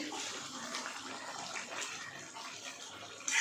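Water is poured into a pan of chicken that has just been sautéed in spices, a steady, fairly soft gushing splash that runs unbroken for a few seconds with no voices.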